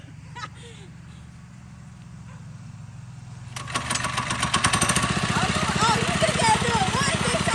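A 79cc go-kart engine cranks and catches, settling into a loud, steady, rapid chugging that fills the second half, close up, after a low idle-like hum and with voices talking over it.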